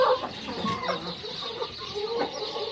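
A free-range hen clucks in agitation as her eggs are taken from the nest, giving a string of close, irregular clucks and squawks with nothing else heard.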